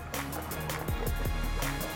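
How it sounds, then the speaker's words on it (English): An overlanding rig's exhaust burbles and bubbles underwater during a river crossing in Ozark National Forest, with a steady rush of water and a few sharp gurgling pulses throughout. "We got bubbles on the exhaust."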